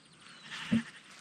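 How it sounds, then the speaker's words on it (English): A sheep in a flock on the wild New Zealand islands of Aotearoa gives one short bleat at mid distance over a steady background of wind and hiss. "we've made our way to a bunch of sheep"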